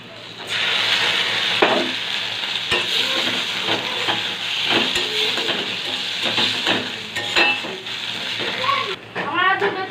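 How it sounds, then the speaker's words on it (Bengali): Ground vegetable peel paste sizzles and fries in a pan with reddish-browned chopped onions while being stirred, a steady hiss broken by repeated spoon scrapes and clinks over several seconds. "পেঁয়াজটা আমার লাল লাল করে ভাজা হয়ে গেছে, এবার বেটে রাখা খোসাটা দিয়ে দেবো।"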